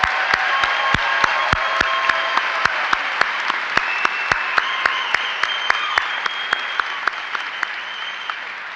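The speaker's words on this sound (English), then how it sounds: "Let's give a round of applause for the Department of Journalism candidates for graduation." An audience at a spring college convocation applauds the journalism graduation candidates with a long, even round of clapping, punctuated by regular sharp clicks close by.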